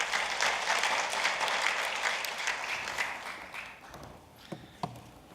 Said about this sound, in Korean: 박수로 모셔주시죠